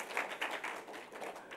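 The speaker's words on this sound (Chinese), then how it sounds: "就掌声欢迎他" Audience applause welcoming a speaker at a PyCon Taiwan 2018 conference talk, a brief, fairly faint patter of claps from a small crowd.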